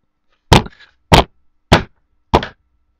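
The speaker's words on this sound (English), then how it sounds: "It's the sound of me relentlessly pounding my desk in fury." Four heavy fist thumps strike a wooden desk at an even, measured pace, each a sharp close knock followed by a brief rattle, with silence between them and no talk.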